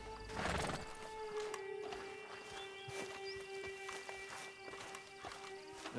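A horse in the video game Red Dead Online whinnies at the start, followed by steady hoof clip-clops and movement over a continuous background hum and ambience, fairly quiet overall.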